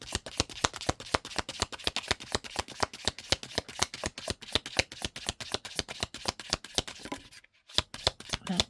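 Tarot cards shuffled for a reading in a fast, steady run of crisp riffling flaps, close and fairly quiet, with a brief pause near the end before the shuffling resumes.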